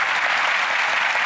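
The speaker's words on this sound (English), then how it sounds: "A round of applause." Dense, steady audience applause fills a theater at a televised magic show, loud and even from start to finish with no voices over it.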